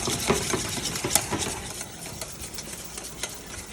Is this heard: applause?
no